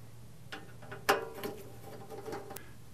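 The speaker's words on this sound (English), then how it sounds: "there's four screws here that come out, so we'll just pull these out" Screws being backed out of the top cover of a Rocket Evoluzione V2 espresso machine, heard as faint close metallic ticks and small clicks scattered over a steady low hum, with one sharper click standing out.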